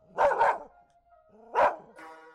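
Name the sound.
dog barking excitedly, sound effect in horror radio drama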